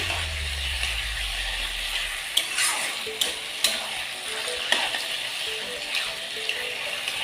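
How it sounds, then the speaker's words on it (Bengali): Taro pieces and fish head frying in a pan for a home-style curry, stirred by hand: a steady close sizzle with scattered clinks and scrapes of the utensil against the pan. "একটু নাড়াচাড়া করে নেব"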